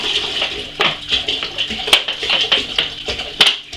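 Liquid wash, pre-measured in 2-litre batches, pours and splashes into a Still Spirits table top distiller, with uneven sloshing pulses and a few sharper splashes, close up and moderately loud with no talking.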